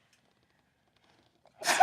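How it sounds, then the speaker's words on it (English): A single sneeze bursts out at the very end after a long silence, loud and close, a short sharp explosive breath. "Oh, I have to sneeze."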